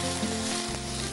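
Red and green bell peppers fry in a pan with a steady, close sizzle while they are stirred, a brief stirring scrape partway through and no talk.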